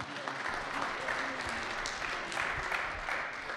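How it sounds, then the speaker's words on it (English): Audience applause at a Kansas City startup pitch meeting, steady clapping from a room of people lasting a few seconds, moderately loud and fairly even throughout. "you can give him a round of applause to get him off"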